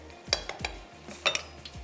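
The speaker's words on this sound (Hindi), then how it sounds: "दही ऐड करते ही अच्छा सा एक मिक्स दे देते हैं" A spoon clinks and scrapes against a pot while yogurt is stirred into spiced chickpeas and spinach, giving a few close metallic knocks and soft wet stirring sounds.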